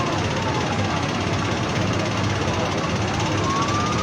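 An emergency vehicle siren wails at a nighttime fire at an electronics store in Lubuklinggau, a faint sweeping tone buried under steady, loud rushing noise throughout.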